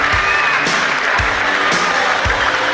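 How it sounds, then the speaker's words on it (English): A crowd at the 1993 French Open women's final gives a standing ovation, a loud sustained roar of applause and cheering with whistles and a few low thumps. "A standing O from the crowd as these two women come out."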